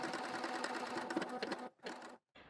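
A coverstitch sewing machine runs steadily while stitching a hem, a close, continuous motorised whir that pauses briefly near the end and then starts again.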